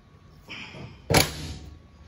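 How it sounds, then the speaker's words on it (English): The door of a 1961 Chevrolet Impala hardtop, a four-door being converted to a two-door, swings and shuts with a single solid thud and a brief metallic rattle, close by in a quiet garage. "But if you close this door"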